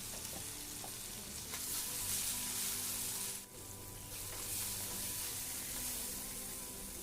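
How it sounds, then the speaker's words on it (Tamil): Tomatoes sauté with salt in a hot pan, a steady close sizzle with intermittent stirring scrapes, briefly dipping in the middle before the frying hiss resumes. "அதை போட்டு நல்லா வணக்கி விட்டுக்குங்க தக்காளி வணங்குறதுக்காக கொஞ்சமாக உப்பு சேர்த்துக்கலாம்"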